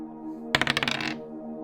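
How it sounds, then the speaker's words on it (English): A six-sided die rolled onto a hard surface, a quick burst of rattling clicks that settle within about half a second over a steady background hum. "A simple roll on a d6 will tell us where Einar is"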